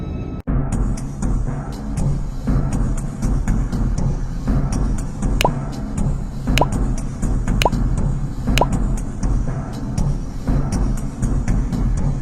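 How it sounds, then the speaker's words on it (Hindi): Liquid drops fall one by one from opened bottles into a sphere, each a small bright plop or ping spaced a second or so apart over a steady low rumbling background. "वो उन बोतलों को खोलता है और 2-2 बूंदें उस गोले के अंदर टपकाने लगता है।"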